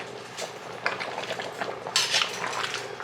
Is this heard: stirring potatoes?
yes